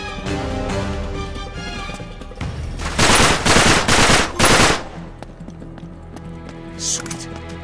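Rapid pistol gunfire in the Uncharted 3: Drake's Deception video game: a cluster of loud, sharp shot bursts in the middle, set against quieter game ambience and scattered clicks.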